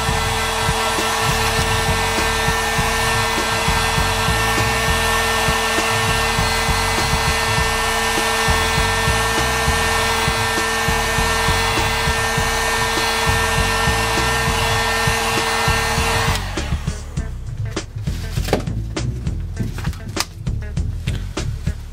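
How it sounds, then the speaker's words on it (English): A heat tool blows hot air over a freshly applied paint layer, a loud steady fan whine and rushing air that cuts off partway through, leaving scattered handling noises. "So I'm going to heat it and dry it up now."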